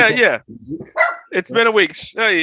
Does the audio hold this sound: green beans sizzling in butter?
no